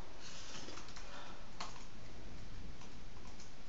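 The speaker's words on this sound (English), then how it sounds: "I'm going to type my email." Someone types an email on a computer keyboard, a steady run of quick, faint key clicks over a constant background hiss, with no talking.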